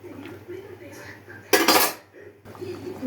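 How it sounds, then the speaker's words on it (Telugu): Metal spoon stirs brown rice in a cooking pot, with soft scraping clinks, then a loud clatter as the metal lid is set on the pot, followed by quieter kitchen handling. "ఒకసారి కలిపి మూత పెట్టుకుందాం"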